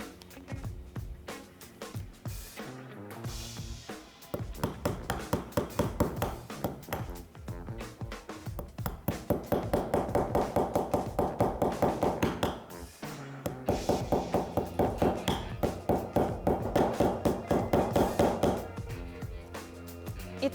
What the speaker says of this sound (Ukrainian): так набиваємо повністю по периметру всього нашого малюнку